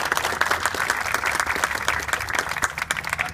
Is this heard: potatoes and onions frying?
no